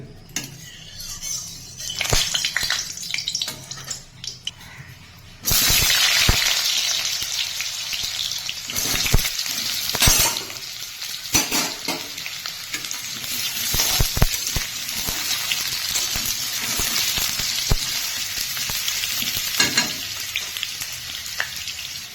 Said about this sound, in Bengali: কড়াই সরষের তেল দিয়ে প্রথমে আমি মাংসে দেওয়ার জন্য আলু ভেজে নেব